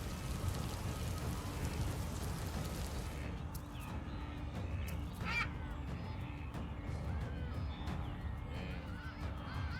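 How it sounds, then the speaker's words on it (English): Steady rain falls in the southern Serengeti as a dense, continuous hiss, with faint bird calls scattered through it. "early seasonal rains transform the southern Serengeti"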